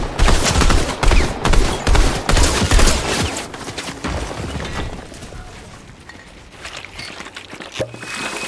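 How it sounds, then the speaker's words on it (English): Video game gunfire comes in dense, rapid bursts as the player is shot at repeatedly, loudest in the first few seconds and then continuing slightly quieter with scattered shots and impacts. "why is this guy just spam shooting me"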